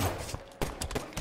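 Gunfire in a first-person video game: several sharp, close shots in a quick burst lasting about a second, with a brief pause midway.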